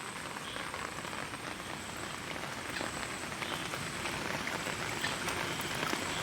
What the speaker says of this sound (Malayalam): മഴ തുടങ്ങിയിട്ടാ